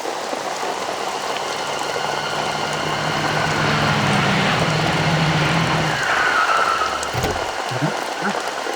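Steady rain hisses as a dense, continuous wash of noise, with a faint low engine-like drone underneath and a few brief knocks near the end.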